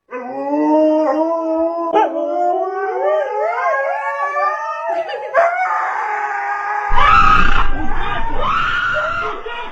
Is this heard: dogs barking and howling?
yes